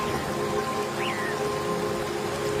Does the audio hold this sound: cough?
no